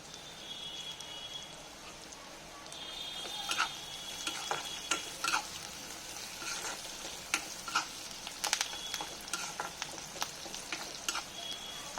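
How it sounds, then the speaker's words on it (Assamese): Onions fry with curry leaves in a pan for a Kerala-style chicken roast, a soft steady sizzle with sharp crackles and pops scattered throughout, no talking. "এতিয়া জুইটো কমাই মই পিঁয়াজখিনি প্ৰায় 5 মিনিটমানৰ কাৰণে গোল্ডেন ব্ৰাউন হোৱালৈকে ভাজি ল'ম।"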